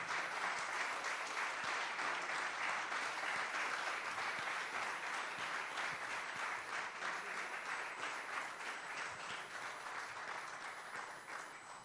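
Sustained applause from a church congregation during an evening worship service, steady dense clapping throughout that tapers slightly toward the end, with no talk over it.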